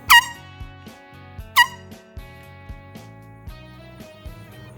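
A mini air horn sounds two loud, sharp blasts about a second and a half apart, followed by softer, shorter honks, with a tonal, ringing quality throughout.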